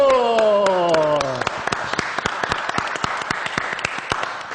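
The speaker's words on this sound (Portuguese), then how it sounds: "já recebendo os aplausos" A brief tone fades out, then a TV talk-show studio audience claps steadily, a dense patter of applause continuing to the end.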